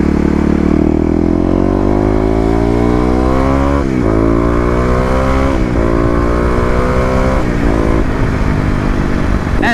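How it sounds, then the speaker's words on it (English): A motorcycle engine revs hard through an acceleration run, pitch climbing steeply through successive gears with brief dips at each shift, loud and close. "We're gonna get one more acceleration run here"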